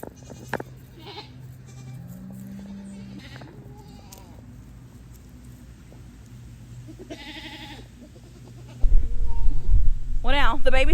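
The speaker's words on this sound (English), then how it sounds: "I am gonna have to go baby goat searching because I'm missing 4 tiny little goats" Several baby goats bleat in short wavering calls, the loudest cries bunched near the end over a louder rustling background, with fainter bleats scattered earlier.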